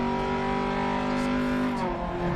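A rally car engine in the racing game DiRT 2.0 holds a loud, steady high-revving drone with rich layered harmonics, easing slightly in pitch near the end, with no talk over it.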